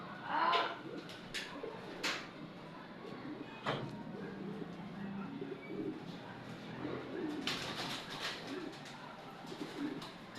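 Racing pigeons coo softly in a loft, a few low throaty calls scattered among quiet rustles and clatters, with a voice talking faintly.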